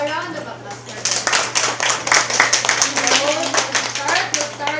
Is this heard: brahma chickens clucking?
no